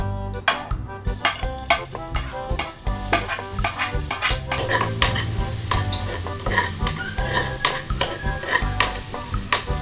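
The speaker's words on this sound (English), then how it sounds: "we will now saute the garlic, onions, and ginger." Garlic, onions and ginger sautéing in oil in a pan for chicken rice congee, a bright steady sizzle with rhythmic spatula scrapes and taps against the pan, close with no talking.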